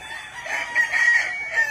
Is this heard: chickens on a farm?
yes